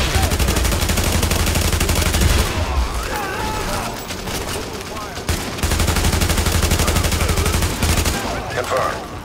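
Sustained automatic gunfire during a police academy mission in The Division on PC, dense and loud for most of the stretch with a brief lull midway, mixed with game effects.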